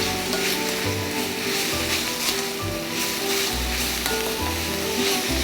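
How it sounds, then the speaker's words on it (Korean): Mixed mushrooms with a little salt sizzle steadily in an oiled pan as they are stir-fried, with loud, constant frying crackle and occasional stirring scrapes throughout. "볶아주세요"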